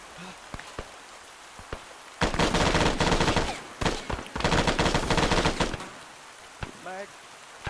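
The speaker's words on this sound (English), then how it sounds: "Taking fire!" Automatic weapon fire in the military shooter ARMA 3, with two long sustained bursts of rapid gunfire and a few scattered single shots before and after, fairly close and loud, with brief radio-style voices in the gaps.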